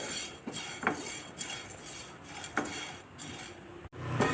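Rasam powder spices dry-roast in a pan, a metal spoon scraping and clinking against it in irregular strokes, soft and close over a faint background hiss.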